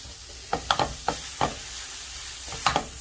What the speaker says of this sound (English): We have it on medium high heat. We're gonna add our pound of hamburger.